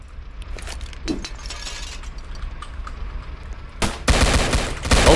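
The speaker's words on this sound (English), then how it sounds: "Oh, shots fired." Rapid gunfire bursts in a Roblox police game set in Vancouver, with scattered shots early on, then a loud, dense volley of fire near the end.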